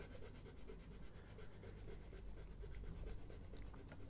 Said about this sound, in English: I can get an absolute load off using this rubber